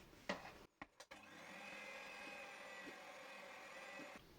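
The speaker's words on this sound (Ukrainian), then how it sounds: "До суміші всипаємо борошно. перемішуємо міксером." An electric hand mixer beats flour into a kefir batter for a walnut pie, giving a steady, even motor whir after a few brief knocks at the start, close and fairly quiet.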